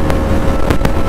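A Hero Xpulse 200 motorcycle fitted with an AR full-system exhaust revs its throttle, giving loud, close engine roar with sharp bursts of popping near the start and again toward the end.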